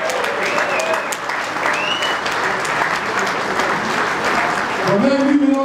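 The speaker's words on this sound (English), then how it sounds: "you should have a great amount of applause for him for last year" Sustained applause fills a banquet hall at a football club's annual player dinner, steady and loud from start to finish, with a few voices calling out near the end.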